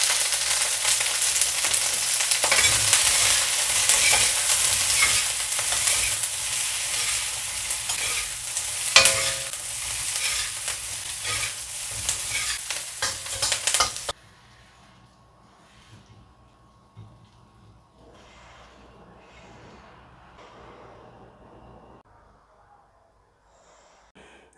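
Food frying loudly in a pan with steady sizzling and occasional stirring for about fourteen seconds, then the noise drops away to a faint, quiet background.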